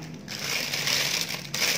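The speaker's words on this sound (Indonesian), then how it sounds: "lalu kita bungkus ya, masukkan ke dalam plastik segitiga ya" Crinkling and crumpling of a plastic piping bag as choux pastry dough is pushed inside, a steady close rustle that swells and fades with a few short gaps.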